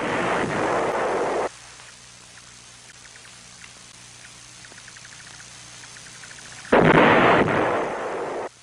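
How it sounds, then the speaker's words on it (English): North Vietnamese artillery shelling at Khe Sanh brings loud, sustained roaring blasts that cut off abruptly, with a quieter stretch of crackling debris between two heavy barrages. "The North Vietnamese artillery hitting Khe Sanh and the Marine outposts was all indirect fire."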